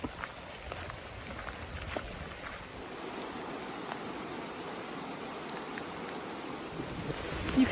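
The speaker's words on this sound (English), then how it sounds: "You could really hear the Middle Fork River as you're doing this hike" The Middle Fork River flows steadily in the distance on a rainy-day forest hike, a faint, continuous broadband rush with soft patter throughout and no speech.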